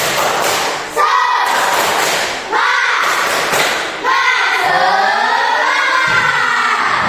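Schoolchildren in a classroom perform a rhythmic spirit clap, sharp claps and thumps falling in a patterned sequence while their voices chant along loudly in unison.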